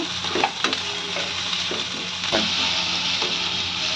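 Onion, garlic and tomato fry in a pan for an egg curry, giving a steady close sizzle with a few scrapes and clinks of a spatula stirring through it, and no voices.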